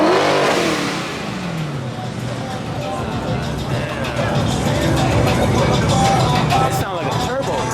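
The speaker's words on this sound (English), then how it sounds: "That sounds like a turbo." A turbocharged car revs at a car meet held at a Dodge dealership, the engine loud and close, surging and falling with a busy background of crowd chatter and people talking nearby.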